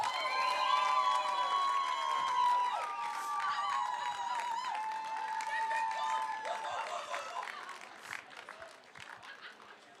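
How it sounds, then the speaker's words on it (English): A crowd applauds and cheers the women's wheelchair marathon winners at the Gold Coast Marathon, a broad wash of clapping mixed with shouts and whistles that thins out toward the end, with voices carrying through it. "Another great big round of applause for our female wheelchair marathon winners."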